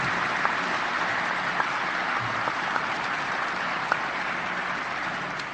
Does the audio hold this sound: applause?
yes